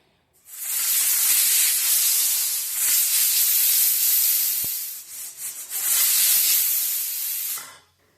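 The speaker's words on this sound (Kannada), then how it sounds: "ಕುಕ್ಕರ್ ಬಾಯಿ ಮುಚ್ಚಿ ಮೂರು ಸಿಟಿ ಮಾಡ್ಕೊಳ್ಳೋಣಂತ್ರಿ" A pressure cooker cooking rice and moong dal pulao lets out steam in a loud, sharp hiss that runs for several seconds, dips briefly, then surges again before cutting off.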